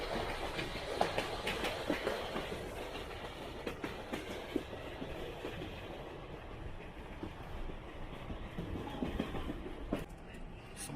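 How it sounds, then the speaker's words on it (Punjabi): The Cockle Train runs along the seashore at Victor Harbor, heard from on board as a steady rolling rumble with repeated clickety-clack rail beats and occasional sharp knocks, fairly quiet overall. "ਸਮੁੰਦਰ ਦੇ ਕੰਢੇ ਕੰਢੇ ਜਾ ਰਹੀ ਆ ਟ੍ਰੇਨ ਇਸ ਵੇਲੇ"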